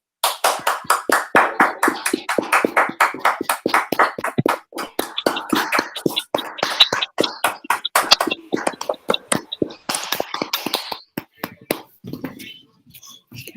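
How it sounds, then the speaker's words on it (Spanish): An audience at an electoral justice event applauds, sounding as a burst of close, distinct handclaps that thin out toward the end. "démosle un aplauso fuertísimo a doña Gloria y al magistrado de la Mata"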